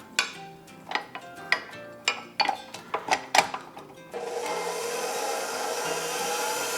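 A stand mixer fitted with a dough hook works currant bun dough seasoned with cinnamon and salt. A few sharp knocks and clinks come first, then the motor starts into a steady, loud whirring churn.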